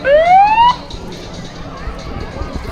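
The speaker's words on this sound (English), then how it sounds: "And I hear some sirens. That must mean that the fire department is on the scene." A loud siren wail rises in pitch for under a second, then cuts off, leaving a low rumbling background of traffic and distant noise.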